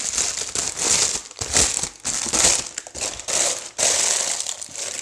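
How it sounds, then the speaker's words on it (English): Greaseproof paper being scrunched into a ball by hand for lining a cake tin, loud close crinkling in repeated bursts with brief pauses between squeezes, no voices. "get your greaseproof paper, screw it up into a ball"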